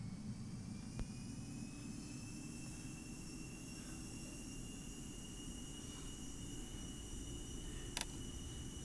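MD-80 jet engines spooling for a flex takeoff in X-Plane 11 at Helsinki, a steady, loud, continuous roar with a low rumble and high whine, plus a brief click near the start and a faint tick later.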